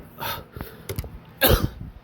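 A person imitates coughing with a few rough, breathy bursts in quick succession, fairly close and moderately loud.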